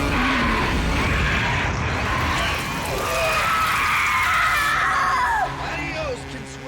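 A creature in the monster film Eight Legged Freaks lets out a long, wavering, high-pitched scream with shrieking sweeps, loud over a noisy film soundtrack.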